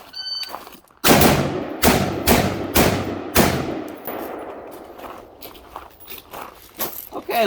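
Five sharp rifle shots from an XM16E1 fired at targets in a drill, loud and close, spaced about half a second to a second apart, followed by a metallic clang and quieter handling noises.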